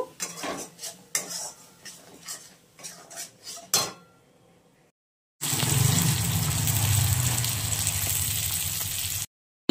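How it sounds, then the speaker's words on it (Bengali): Sesame, green chilli and poppy seed paste is stirred in a pan for parshe fish curry, with several metal spoon scrapes and clanks, a pause, then a loud steady sizzle and hiss. "এই আমি এটাকে খুব ভালো করে আমি কষিয়ে নেব।"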